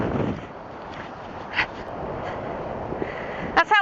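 Strong gusting wind on a golf course buffets the microphone in a steady broadband roar, with a couple of brief louder gusts and a short breathy burst near the end.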